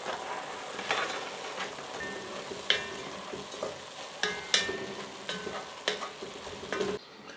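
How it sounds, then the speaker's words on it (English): Chopped carrot frying in a pan as the base for a ragu sauce: a soft, continuous sizzle broken by sharp clacks and scrapes of stirring at irregular intervals, with no voices. "I'm adding the carrot."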